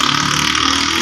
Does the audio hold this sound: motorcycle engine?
yes